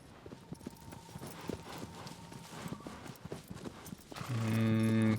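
Agro's hooves clip-clop in a steady walking rhythm on hard ground in Shadow of the Colossus (2018), close and moderately loud, before a swell of sustained music takes over near the end.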